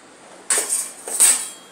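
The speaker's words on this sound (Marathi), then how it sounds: "हे सर्व आपण मिक्स करून घेऊया" A spoon knocks and scrapes against a metal pot while stirring drumstick pods with water and ginger garlic paste, two short bright clinking strokes close by with no talking.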